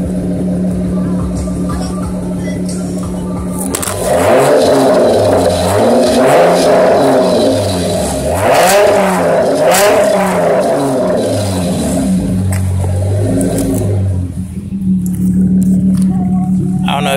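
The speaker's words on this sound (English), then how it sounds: "it's the Flowmaster right there. I did a dual exhaust." A 2007 Dodge Charger's Flowmaster dual exhaust idles with a low burble, then revs hard several times in deep rising and falling bursts before settling back to idle.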